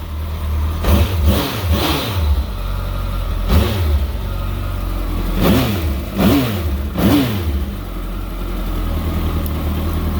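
A 2013 Kawasaki ZX14 motorcycle engine revs in a string of quick, sharp blips, two or three close together and then single ones, loud and close over a steady idle.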